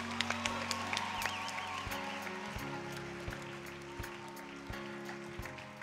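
Church congregation at an Easter Sunday service claps hands in a soft, continuous patter, distant and faint, with occasional sharper claps over a low background hum.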